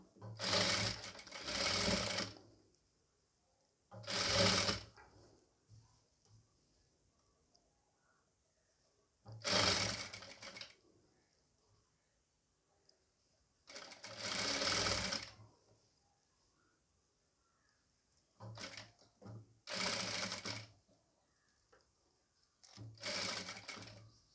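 A sewing machine stitching a nighty, running in rapid bursts of a few seconds each, separated by quiet pauses, fairly close and alone.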